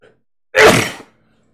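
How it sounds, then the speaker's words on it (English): A single human sneeze bursts out sharply and loudly, close to the microphone, lasting about half a second between silence. "I'm going to sneeze here."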